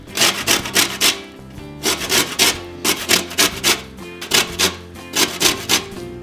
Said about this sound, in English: We're gonna take the zest from a couple limes. So I just used the little fine grater on a grater here.